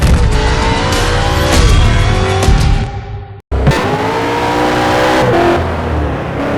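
Race car engine in the 2009 racing game Need for Speed: Shift, loud and close, revving hard through gear changes with a brief cut near the middle before roaring on again, no talk.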